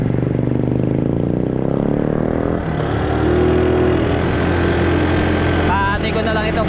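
A small motorcycle engine idles steadily close by, its low, even drone continuing throughout, with a brief shift partway through and a voice talking over it.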